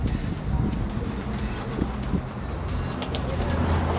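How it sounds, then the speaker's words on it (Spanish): Racing pigeons coo softly over steady wind and outdoor background noise, with low repeated throaty calls scattered throughout. "ahí tenemos a las palomas"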